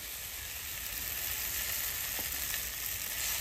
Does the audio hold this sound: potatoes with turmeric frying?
yes